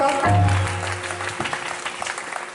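An audience at a religious program claps at a chaurahe gathering, with a short burst of applause under a lingering tone, tapering into scattered claps.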